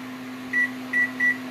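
A kitchen timer being set in a home kitchen for a water bath canning session, giving three short, evenly spaced electronic beeps over a steady background hum.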